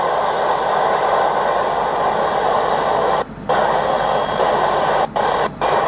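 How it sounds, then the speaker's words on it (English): Loud, dense HAM radio static fills the air aboard the space station, a steady broadband hiss that cuts out briefly three times near the end as if squelched, with no voices. "So now you can hear a lot of static"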